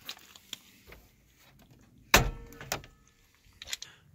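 Hood of a 1992 Toyota pickup with a 22RE four-cylinder being opened: a few light clicks and rattles, then a sharp metallic latch clunk and thud midway, followed by softer handling knocks, close by.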